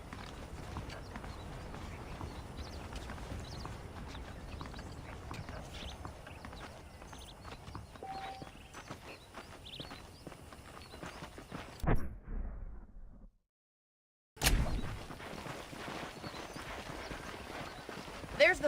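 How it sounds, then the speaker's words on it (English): Horse hooves clip-clopping at a steady ridden gait in the Western game Red Dead Redemption, a continuous rhythmic patter under background music and a talking voice, cutting out briefly to silence before resuming. "Okay, let's see if you can still ride a horse."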